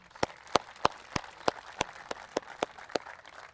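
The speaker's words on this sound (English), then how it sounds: "I think we can give a round of applause." Slow, evenly spaced hand claps ring out one at a time at an outdoor park reopening ceremony, about ten sharp claps in a row against a quiet setting.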